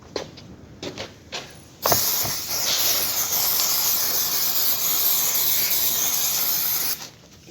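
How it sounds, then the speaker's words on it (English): Brake parts cleaner sprays from an aerosol can onto digger track parts: a few short hissing bursts, then one long steady hiss that lasts several seconds and stops sharply, heard close and with no talking. "Brake parts cleaner."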